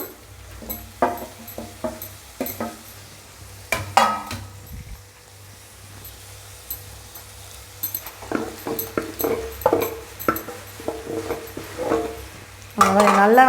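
Grated carrot and potato being stirred into masala in a pan, with repeated metallic clanks and scrapes of a spoon against the pan in bursts, a quieter stretch midway and faint sizzling beneath.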